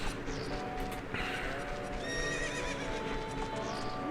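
A horse in The Legend of Zelda: Ocarina of Time gives a whinny over steady clip-clop hoofbeats, the call rising and falling clearly against the game's background music.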